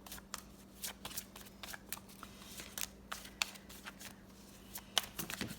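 Oracle cards from a Star Dragons deck are handled and shuffled before one is drawn, giving a quick run of soft riffling flicks and card slaps, close and fairly quiet, with a steady low hum beneath.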